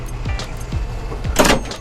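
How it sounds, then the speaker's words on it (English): Air brakes releasing on FedEx Ground double trailers, a short, sharp hiss burst near the end, preceded by a few low thumps and mechanical clunks, fairly close with no talking. "You're gonna release your brakes. You should hear that."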